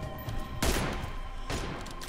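Gunfire in the mobile battle-royale game PUBG Mobile: two loud, sharp bursts of shots about a second apart, each with a brief crackling tail, over steady in-game ambience.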